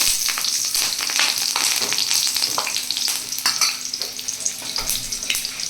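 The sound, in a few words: nigella seeds and green chili frying in oil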